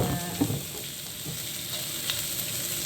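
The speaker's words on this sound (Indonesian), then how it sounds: "Nah, ini kita masukin bawang merahnya" Shallots drop into hot oil in a pan and sizzle steadily, a close, continuous frying hiss with a few stirring scrapes, no talking, while cooking a sweet-sour chicken bone soup.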